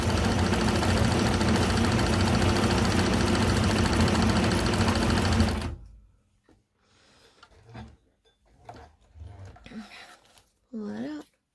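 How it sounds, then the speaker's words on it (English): Cowboy CB6900 compound-feed cylinder-arm sewing machine stitching with a new needle, a loud, close, continuous mechanical whir for about six seconds that stops abruptly, followed by quiet handling noises and brief talk. "let's take it for a little ride and see how the stitches come out now that we have put in a new needle"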